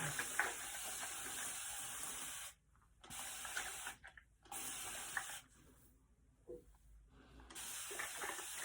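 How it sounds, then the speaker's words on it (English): A pump spray bottle misting liquid onto curly hair, with several long hissing bursts separated by short silent pauses, close to the microphone and fairly soft, with no speech. "you only have to like pull the pump a little bit and it sprays a ton"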